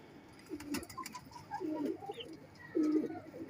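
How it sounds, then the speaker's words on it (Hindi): A male Fulsira (Fulsira dabaz), an old pigeon breed, coos in soft low bursts, three separate phrases spaced about a second apart, close by over faint background noise. "ये मेल है दोस्तों, ये फुलसिरे दबाज कबूतर है"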